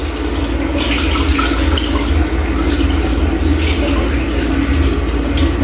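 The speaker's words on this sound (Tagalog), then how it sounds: "Ang lakas ng pressure ng tubig guys." Strong, steady water pressure gushing from a newly installed push-button faucet in a bathroom, a loud continuous splashing hiss that runs unbroken throughout, with no other sounds over it.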